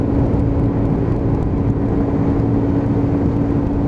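Lexmoto Titan motorcycle engine running steadily while riding, a loud, close, continuous drone with a constant hum and no talk over it.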